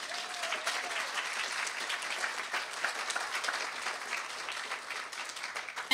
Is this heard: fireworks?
no